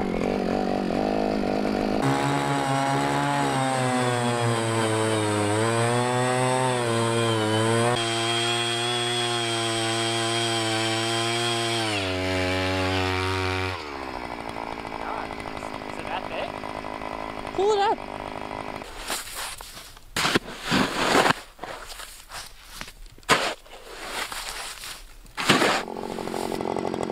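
A powered ice auger bores a hole through thick lake ice on a frozen Alaskan lake, with a steady, loud engine drone for about fourteen seconds before it gives way to scraping, knocking and handling noises.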